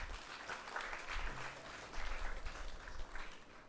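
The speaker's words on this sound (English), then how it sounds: "I think we can clap at that." An auditorium audience at a school event claps in a moderate, uneven wash that swells and eases, heard at some distance and fairly soft, with no talking over it.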